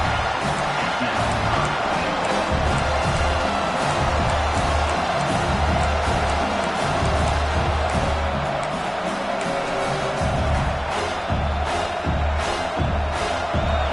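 A big football stadium crowd roars continuously while the defense is backed up near the goal line, a dense sustained cheer with whoops, loud and unbroken, with some talk mixed in.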